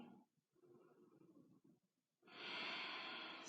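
Slow, calm breaths during a Vinyasa yoga flow, taken with hands on hips while the pelvis lowers toward the floor: soft, quiet inhales followed by a longer, louder breathy exhale, close and with no talking.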